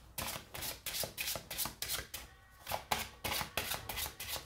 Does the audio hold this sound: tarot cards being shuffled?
yes